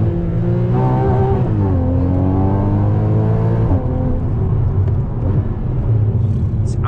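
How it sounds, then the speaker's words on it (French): Engine of a convertible car revving up and dropping back repeatedly, rising and falling pitch with a sharp break midway and scattered exhaust pops, loud and near, no voices over it. "Et on entend les paf, paf, paf."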